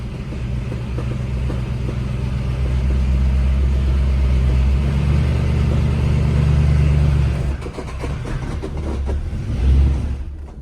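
A car engine running roughly, loud and close, with an uneven low drone that sputters and falters after about seven seconds before a brief surge near the end.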